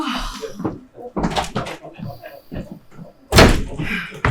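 A door slams hard indoors, a loud single bang standing out amid dialogue, with voices talking before it.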